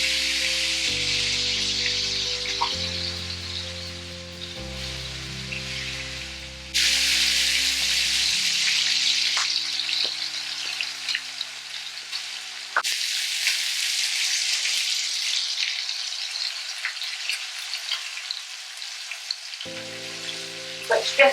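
Firecracker salmon fillets fry in a hot pan with a steady, loud sizzle that carries on throughout, with a few brief scrapes and taps from stirring or turning, and background music playing underneath.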